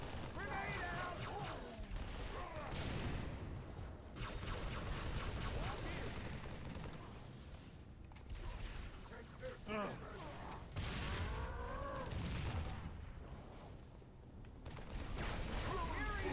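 Rapid plasma rifle fire rattles in bursts during Halo 3 combat, with mechanical weapon clatter and alien chirps mixed in, under a player talking over the action.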